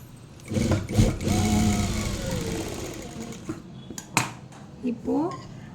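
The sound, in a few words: sewing machine stitching fabric neck design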